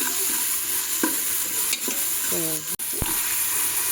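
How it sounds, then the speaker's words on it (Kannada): Onion, tomato and peas sizzle steadily in a pan while a utensil stirs and scrapes, giving a few clear knocks and clinks against the pan. "ಈರುಳ್ಳಿ ಟೊಮೊಟೊ ಎಲ್ಲನೂ ನೀಟಾಗಿ ಫ್ರೈ ಆಗುತ್ತೆ"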